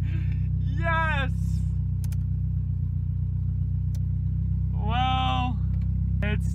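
A Toyota Celica ST165 engine idles with a steady, loud low rumble throughout, while excited voices whoop over it twice.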